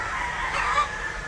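Free-range chickens cluck in a short burst with a rooster-like call rising briefly midway, set against steady outdoor background noise.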